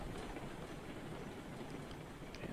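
Steam train rolling along the tracks in the game Railroad Online, a steady, dense rumble of wheels and rail noise held at an even level throughout, fairly faint, with no talk.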